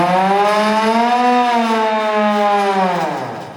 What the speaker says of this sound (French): le mineur, le bout de feu, donc va actionner la sirène